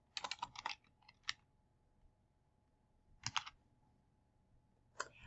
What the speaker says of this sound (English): you can start typing that vendor name